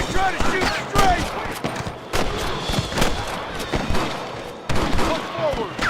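Gunfire in Red Dead Redemption, a Wild West shootout: rapid volleys of rifle and pistol shots crack out in dense bursts, loud and close, with shouting voices over the firing.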